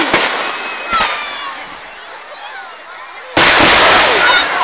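Fireworks at a public display burst with sharp booms and crackling, some distant and some loud and close, echoing across the open air while onlookers talk and react.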